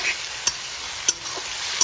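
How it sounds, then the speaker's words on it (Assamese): Chicken and vegetables in tomato paste sizzle steadily in a pan at home, a close, even frying hiss punctuated by three sharp taps of a stirring spoon against the pan. "আকৌ ভাজিছোঁ ভালকৈ"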